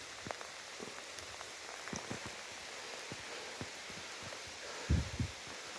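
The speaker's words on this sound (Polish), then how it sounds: "wieje, leje niemiłosiernie dzisiaj. Zbieramy w ulewę te dary" Heavy rain pours in a windy forest during mushroom picking, a steady hiss of downpour on leaves with scattered drops and soft thumps, ending in a couple of low knocks.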